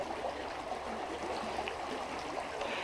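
Creek water rushes and burbles over boulders in a steady, close broadband wash, with small trickling splashes standing out now and then and no voices.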